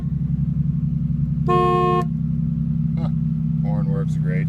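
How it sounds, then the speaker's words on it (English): A 1988 Oldsmobile Cutlass Ciera sounds one short, loud horn blast over its steady idling engine, and someone speaks briefly just afterward. "Horn works great."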